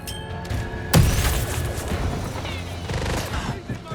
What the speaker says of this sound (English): Releasing flashbang!